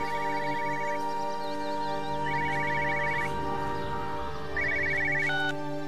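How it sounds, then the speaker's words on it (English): Telephone ringing in the game Everybody's Gone to the Rapture, three bursts of rapid electronic trilling rings separated by pauses, loud and close over a sustained tonal ambient drone. "I hear another phone."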